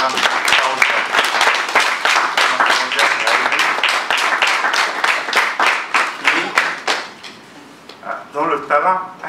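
A graduation ceremony audience applauding a graduate: steady, brisk clapping from a sizeable crowd, loud and close, fading toward the end with a few scattered claps.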